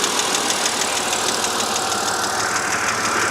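BMW 130i engine idling with a steady, fast tapping from the hydraulic lifters, heard up close as a constant mechanical clatter over the engine hum, no talking.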